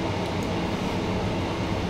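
A train travels along the Horsham branch line with a continuous, loud, steady rumble and hiss, heard alone without talk.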